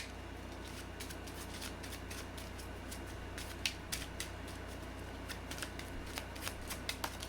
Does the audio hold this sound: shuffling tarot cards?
yes